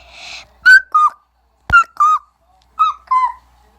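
A voice imitates a cuckoo, giving three paired two-note calls, high then lower, with short pauses between pairs, close and clear.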